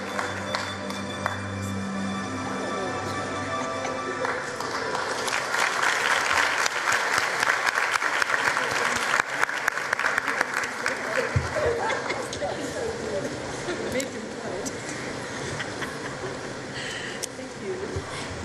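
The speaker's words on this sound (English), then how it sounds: "Can we please give her a round of applause?" A large audience applauds steadily at a formal matric results announcement ceremony, a dense sustained wash of clapping that swells in the middle and carries on throughout, with some voices faintly mixed in.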